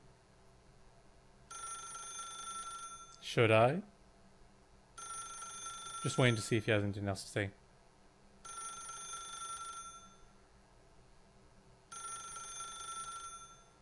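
A telephone rings in The Stanley Parable video game, sounding in regular repeated bursts with short gaps between them. A voice speaks briefly over and between the rings.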